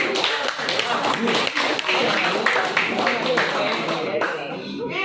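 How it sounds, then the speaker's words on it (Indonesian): A classroom of students claps for a group, a loud, brisk burst of many hands that runs several seconds with voices murmuring underneath before it tapers off. "Oke, tepuk tangan untuk kelompok."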